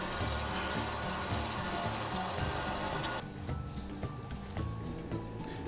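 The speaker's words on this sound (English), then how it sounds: "We've got some dripping going on around here." Water from a leaking kitchen sink drain basket: a steady wash of running water breaks off abruptly, leaving scattered small drips and faint trickles close by.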